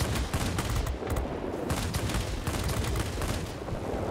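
A Bf 109 G's 30mm cannon fires in rapid, repeated bursts in World of Warplanes, a dense rattle of shots layered over steady engine roar and continuing with short gaps throughout.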